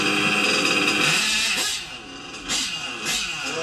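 A small engine idles after carburettor tuning, a steady buzzing drone that dips briefly and recovers, heard close with no talking.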